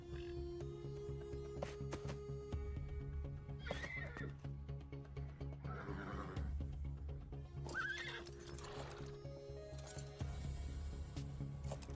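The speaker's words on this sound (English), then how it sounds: "And in Gate 6, we have obviously a pantomime horse." Horse neighing and clip-clop hoofbeats in a video game horse race, several loud whinnies rising over continuous galloping and a steady low game soundtrack.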